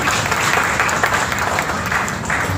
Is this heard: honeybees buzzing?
no